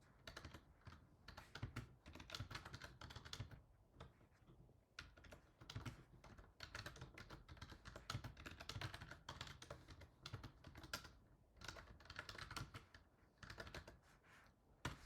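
Code being typed on a computer keyboard, with fast, continuous key clicks in uneven bursts and short pauses, close and fairly quiet, with no voices.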